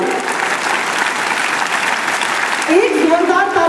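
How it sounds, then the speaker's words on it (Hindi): Loud applause rises from a crowd of parents and children at a school Independence Day celebration, a dense, continuous clapping that carries on steadily, with a voice starting to speak over it near the end. "एक जोरदार ताली उन पेरेंट्स के लिए जिन्होंने इतना अच्छा इनिशिएटिव लिया"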